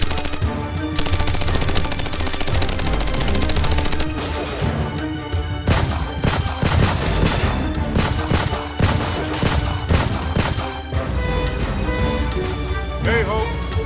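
Rapid bursts of gunfire from the video game Shadows of Duat crackle through a dense, loud action scene, with repeated sharp shots and machine-gun volleys over music and effects, and a voice speaks at times.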